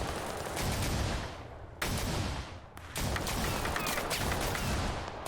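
Dense, continuous barrage of gunfire and explosions in the video game Total Conflict Resistance, loud and rumbling without a break, pausing briefly once or twice before the firing resumes.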